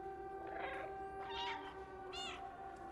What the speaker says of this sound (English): Oh, you got to spam the meows.